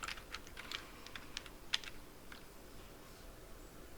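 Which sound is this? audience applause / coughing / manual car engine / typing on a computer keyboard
typing on a computer keyboard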